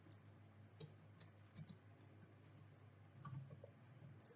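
Sparse clicks and short taps from a computer keyboard, a few keystrokes spread out irregularly, fairly faint, with no talk over them.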